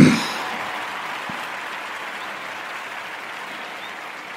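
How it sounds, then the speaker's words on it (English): Synthetic applause sound effect, a burst of clapping that starts loud and then settles into a steady, slowly fading wash of claps, heard alone. "It always warms the cockles of my heart when I hear that round of applause."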